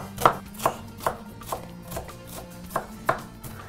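A knife chops an onion steadily on a cutting board, about eight crisp strikes at an even, unhurried pace, close by with no talking.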